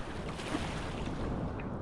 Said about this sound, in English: this is a big wave